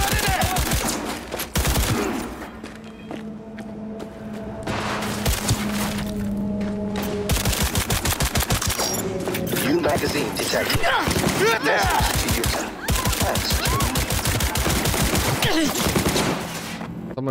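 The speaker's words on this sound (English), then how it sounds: "Someone's shooting us from above." Rapid bursts of gunfire from a firefight in Cyberpunk 2077, dense clattering volleys and automatic fire repeating through most of the stretch, loud and close, with game music and voices mixed underneath.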